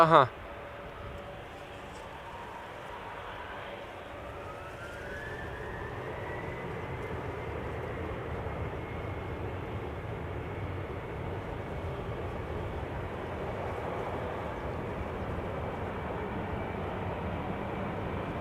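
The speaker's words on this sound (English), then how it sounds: "Next up, LO going to Tel Aviv. Flight 338, 737-900." A Boeing 737-900 airliner's engines spool up into a long, building roar with a rising whine, growing steadily louder as it takes off in the distance at Schiphol's Polderbaan runway.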